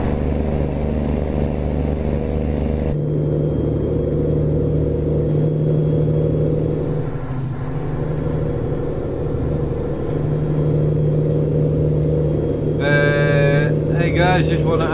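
Freightliner FLB truck pulling twin trailers in American Truck Simulator, a steady low diesel drone from the engine, loud and close, shifting slightly in pitch, with a burst of air-brake hiss near the end and a voice talking over it.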